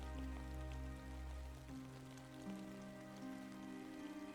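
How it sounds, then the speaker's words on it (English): Steady rain patters on a stone slab overhead, a continuous close wash of drops with low droning tones underneath and no voices. "You can hear the rain just kind of pat pat pat hitting the stone."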